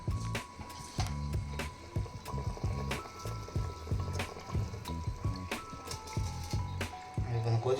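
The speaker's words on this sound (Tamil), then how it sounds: "கொதிச்சுக்கிட்டு இருக்கு." Water for Ambur biryani bubbles and gurgles in a pot, its soft liquid churning broken by sharp clinks and taps of utensils, close by in a home kitchen.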